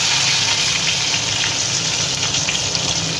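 Spices tempering in hot oil for a spicy Tangra fish curry, a steady broadband sizzle and crackle that stays loud and close throughout, with no voices over it.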